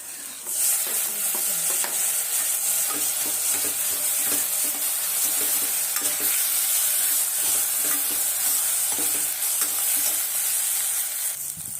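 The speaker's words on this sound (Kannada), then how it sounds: "ಈರುಳ್ಳಿ ಚೆನ್ನಾಗಿ ಫ್ರೈ ಆಗಿದೆ ಈಗ ಒಂದು ಸಣ್ಣ ಟೊಮೊಟೊ" Onions and tomato frying for mutton kurma, a steady bright sizzle in a hot pan with rhythmic stirring scrapes throughout, close and continuous with no voices.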